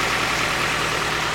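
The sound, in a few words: car engine revving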